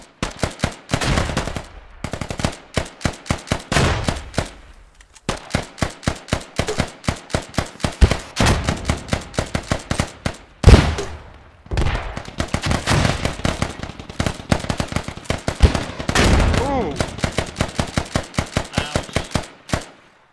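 Rapid bursts of automatic gunfire in the military shooter game Squad, loud and dense, with short pauses between volleys and overlapping shots throughout.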